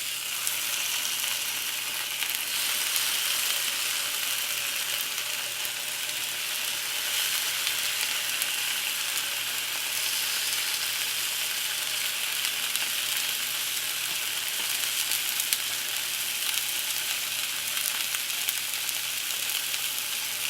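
A spinach-stuffed steak roll frying in a skillet over medium heat, with a constant bright, hissing sizzle that stays close and even throughout, with no talk.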